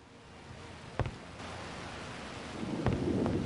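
Steady rain hisses through a thunderstorm in the game Agatha Christie: And Then There Were None, with sharp thunder cracks and a low rolling rumble swelling toward the end, and no voices.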